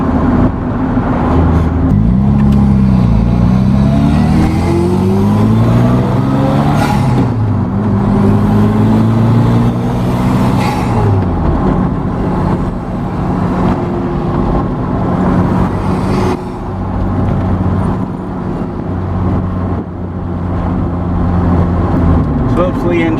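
A 2007 Carver One tilting three-wheeler drives along with a steady engine drone, rising and falling through gear changes, heard from inside the cabin with people talking over it throughout.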